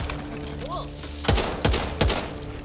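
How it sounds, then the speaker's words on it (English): A machine gun fires in the zombie shooter game Back 4 Blood, with three heavy, booming shots about a half second apart following a brief electronic warble over steady game ambience. "Machine gun!"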